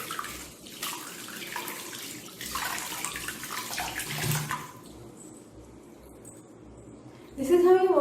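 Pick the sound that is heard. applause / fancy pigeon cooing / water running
water running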